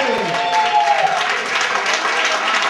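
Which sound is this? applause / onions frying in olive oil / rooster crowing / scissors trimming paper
applause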